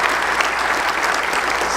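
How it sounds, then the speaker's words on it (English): A synagogue crowd at an evening event for Israel applauds: a dense, continuous wash of clapping, steady in loudness throughout, with no distinct individual claps standing out. "we're going to applaud that"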